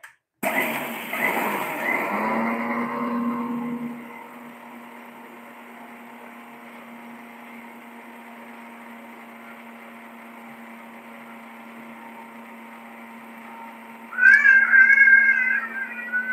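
A kitchen mixer grinder whirs loudly for a few seconds, then drops to a steady low hum that carries on alone, with a sharp cat-like meow rising near the end.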